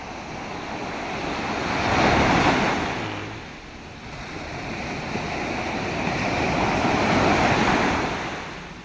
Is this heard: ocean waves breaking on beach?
yes